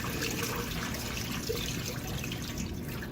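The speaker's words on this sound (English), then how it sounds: "you're just going to want to strain the water off" Cloudy rinse water pours off sushi rice being strained in a kitchen, a steady close trickle and splash with no pauses.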